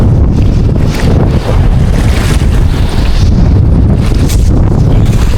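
Strong seaside wind roars into the microphone with steady, heavy buffeting, waves and surf churning beneath, as gusts sweep across a fishing net at the shore.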